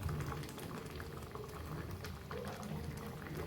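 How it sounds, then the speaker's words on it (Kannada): A pot of chickpea curry bubbling on the stove, a close, steady burble of thick boiling liquid with small pops throughout. "ಕುದ್ಮೇಲೆ ನೋಡ್ರಿ ಪ್ಲೇಟ್ ತೆಗ್ದು ಕುದ್ದೈತೆ ನೋಡ್ರಿ ಪಲ್ಯ"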